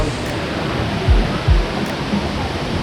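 Kravice Waterfalls in Bosnia send up a loud, steady roar of falling water, close by and constant, with a couple of low thumps partway through.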